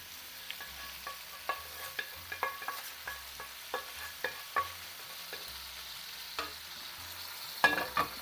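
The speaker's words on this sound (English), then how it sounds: "keep frying the chicken and the masala and the peppers" Chicken, masala and peppers sizzle steadily in a hot pan while a utensil stirs and scrapes, with repeated clinks and taps over the continuous frying hiss.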